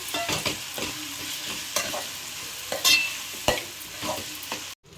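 Chicken biryani masala with mint and coriander leaves is stirred in a pan, with steady sizzling under repeated scraping strokes of a spoon against the pan. The sound carries on for several seconds and no one speaks.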